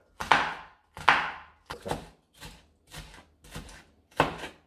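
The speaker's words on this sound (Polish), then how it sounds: "Paprykę staramy się kroić w małą, drobną kostkę." A knife chops bell pepper into small dice on a cutting board while Hungarian beef goulash is prepared, giving seven sharp, close chopping strikes at an uneven pace with brief gaps between them and no talk.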